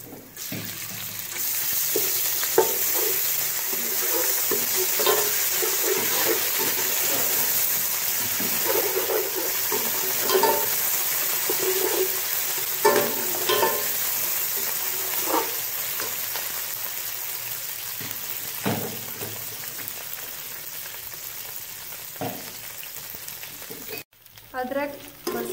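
Ginger, garlic and green chilli paste fries in a pan for aloo matar pulao, with a continuous bright sizzle, scattered stirring scrapes and clinks, and a short break near the end.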